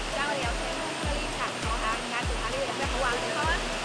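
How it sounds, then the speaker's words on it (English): Resort waterfall in Malaysia roaring as a continuous broadband rush, with repeated low thumping bursts, likely wind on the microphone, recurring about every half second throughout. "而家我哋後邊呢度咧就係呢個 waterfall 啦"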